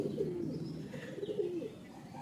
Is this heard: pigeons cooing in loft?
yes